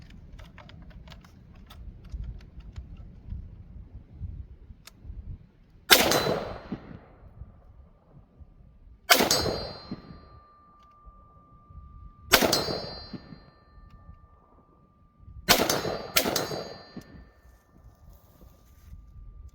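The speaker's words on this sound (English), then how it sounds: "if I shoot it in overgas mode, let's see what that looks like" A SIG MCX Spear LT rifle fired in overgas mode, five sharp, loud gunshots spaced a few seconds apart, the last two close together, each followed by a ringing metallic ping as the brass ejects.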